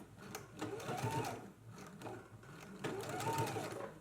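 A domestic sewing machine basting belt loops onto a girls' dress waistband hums in two close, steady runs with a brief pause between them.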